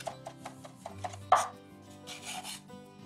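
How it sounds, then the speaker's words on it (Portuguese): A knife chops garlic finely on a board in quick, close, uneven taps, with a sharper knock partway through and a brief scraping rub near the end. "tengo que picarlo finiño"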